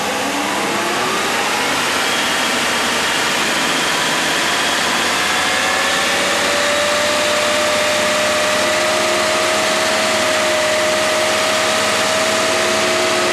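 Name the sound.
rebuilt 1987 Mercedes 560SL engine revving up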